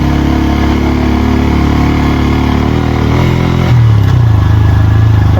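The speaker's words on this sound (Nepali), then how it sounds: "ल है यो मेरो बाइक हो।" A motorcycle engine runs steadily and close by on a new highway in Gulmi, Nepal, with a loud harmonic drone. Partway through the pitch shifts lower and the sound grows slightly louder, as though the engine is easing back or changing gear.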